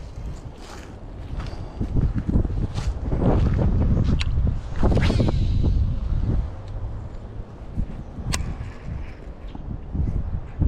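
Gusty wind buffets the microphone outdoors at a fishing spot by the water, a steady low rumble that swells and fades over several seconds with occasional handling knocks, no talk.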